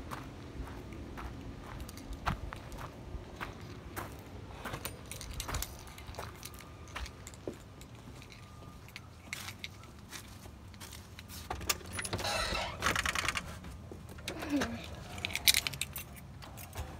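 A bunch of keys jangles in short metallic bursts outdoors near a house and an abandoned truck, with footsteps, handling noises and a louder rattling flurry toward the end as a key is tried in a door.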